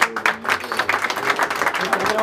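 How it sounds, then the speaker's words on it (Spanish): A birthday party crowd applauds for Stefania, with quick uneven claps building into a lively burst, voices mixed in underneath. "Así que un aplauso bien fuerte, bien lindo."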